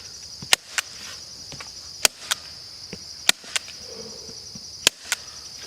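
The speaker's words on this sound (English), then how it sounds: "Use my DeWalt carbon fiber stapler" Several sharp, isolated clacks from a DeWalt carbon fiber staple gun firing at irregular intervals, set against a steady high-pitched insect-like hiss in the background.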